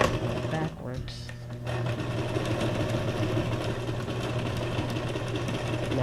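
A sewing machine runs a straight stitch and then reverses, stitching backwards through paper pages for a junk journal. It makes a steady, close, continuous mechanical whir with a low hum throughout, and a voice is briefly present near the start.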